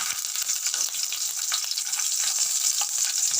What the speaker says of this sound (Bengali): দিয়ে এটাকে একটু ভাজা ভাজা করে নেব রসুনটা ভাজা হয়ে গেছে